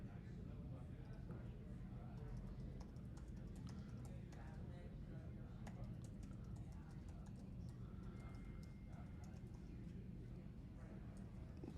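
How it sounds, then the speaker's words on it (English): Someone types on a computer keyboard, a quiet, close run of irregular rapid key clicks with brief pauses, and faint low voices or murmur underneath. "My typing is horrible, so you guys all get to witness it live."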